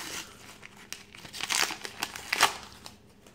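Crinkly plastic wrapper of a Disney Pixar Coco Panini sticker packet being handled and torn open up close, a dense run of sharp rustling and crackling bursts with no talking.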